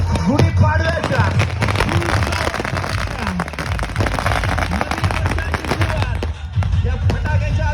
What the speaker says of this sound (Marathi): या फटाक्याच्या आतिषबाजीमध्ये